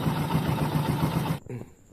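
A Bajaj CT 125 motorcycle engine, warm, running with a steady rattling chug, close and loud, then cutting off abruptly as a voice speaks briefly.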